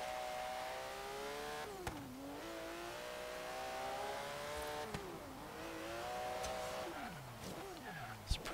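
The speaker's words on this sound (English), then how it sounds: "one of the highest revving engines in a car that we've had on this series" A 1973 Porsche 911 Carrera RS engine in Forza Horizon revs high and steadily through an autocross lap, its pitch rising and dipping with each shift and corner. The sound is loud and continuous with a few brief clunks.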